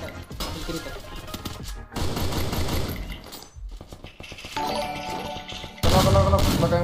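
Rapid machine-gun and rifle fire in the Free Fire battleground game comes in loud repeated bursts separated by brief gaps, with a little talk mixed in.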